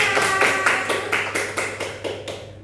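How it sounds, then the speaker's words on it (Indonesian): Students in a classroom clap together in an even, rhythmic beat, about nine sharp claps in quick succession that fade slightly toward the end. "tepuk tangan semuanya"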